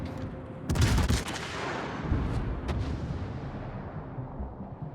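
Heavy booming salvos from a cruiser's naval guns in World of Warships, two deep blasts with sharp cracks followed by a long rumbling decay and a steady low battle roar underneath, loud and without talk.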